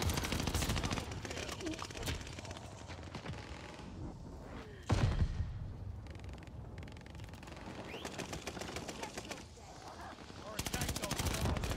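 DP-27 light machine gun bursts in a Call of Duty multiplayer match, rapid rattling volleys in several bursts with pauses between, alongside other game effects and a player talking.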